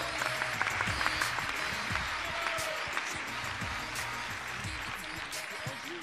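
Crowd applause after a correct answer at a live football quiz, steady clapping throughout with cheers and voices talking over it.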